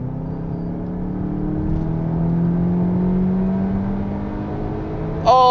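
A 2021 Volkswagen Arteon facelift with all-wheel drive, in sport mode, pulls away with a rising engine note that climbs steadily through the gears as a smooth drone, ending in a brief sharper burst.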